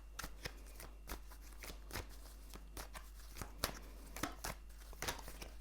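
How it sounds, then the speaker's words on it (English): A deck of tarot cards being shuffled by hand, a run of crisp riffling bursts repeating in a fairly regular rhythm, close and clear with no talking. "So I'm gonna shuffle and see what the cards have to say about this."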